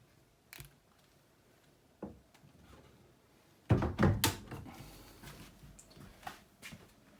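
Cabinet doors in a tiny house kitchen being handled: a few light knocks early on, then a louder cluster of wooden thuds and clatters as doors swing and shut, trailing into smaller taps.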